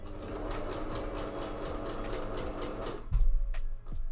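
Sewing machine running steadily while stitching pieces of a corset mockup, a continuous close whirring hum for about three seconds before it slows and stops, followed by brief handling noises.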